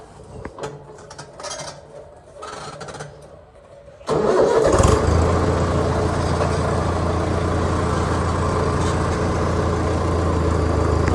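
A tractor engine cranks and catches after a few seconds of quiet background, then settles into a loud, steady low idle rumble that continues alone.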